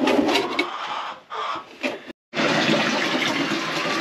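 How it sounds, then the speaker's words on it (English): Water gushes steadily from a hose into a barrel at an off-grid chicken coop, a loud continuous rushing with a few short breaks and birds faintly in the background. "filling up another water barrel"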